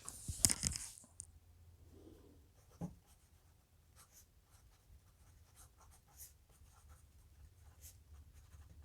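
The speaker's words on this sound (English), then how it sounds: "let's get a piece of paper and just try it out" A Skilcraft mechanical pencil writes on a sheet of paper, starting with a few quick, scratchy strokes up close and then settling into faint, intermittent scratching in a quiet room.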